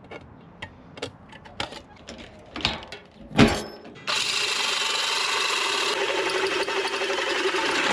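A hand saw making rough cuts on a part for an old Jeep starts after a few scattered scrapes and knocks, settling into a loud, steady, continuous rasping close by.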